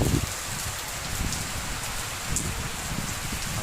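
Steady rain falling during the rainy season in Cambodia, a continuous dense hiss of drops on surfaces with a few heavier patters, close and even throughout, no talking.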